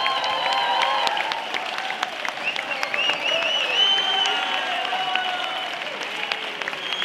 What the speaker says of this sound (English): One more time, big applause.